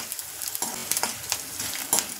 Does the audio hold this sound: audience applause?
no